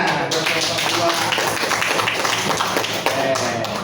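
A school class gives applause to a student group, a crowd of hands clapping at a steady, moderately loud level with talking mixed in over the top.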